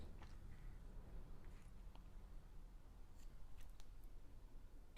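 Scissors snipping hair during a graduated bob haircut, faint crisp snips close by over a low background hum, no talking.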